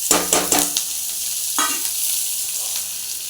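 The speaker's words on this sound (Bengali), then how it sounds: "পেঁয়াজটা একটু ভাজা ভাজা হোক," Onions frying in hot oil with bay leaf and whole garam masala crackle and sizzle loudly, with a few quick stirring scrapes at the start and a steady hiss after, no voices.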